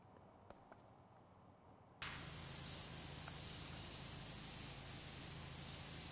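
A pressure washer spray switches on abruptly after about two seconds of quiet, then a loud, steady close-up hiss continues while cleaning the dirty insides of jars.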